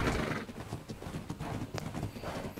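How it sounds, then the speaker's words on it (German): A horse in the ARK video game trots with quick, close clip-clopping hooves in a busy rhythmic patter, layered over outdoor game ambience. "Und jetzt hat mein Pferd gepuppt."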